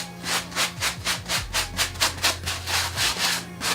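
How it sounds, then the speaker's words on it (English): Brush scrubbing a Nike Air Max sneaker coated in cleaner and conditioner, a steady rhythm of about a dozen close, loud back-and-forth rubbing strokes with no talking. "Gave it a good scrub."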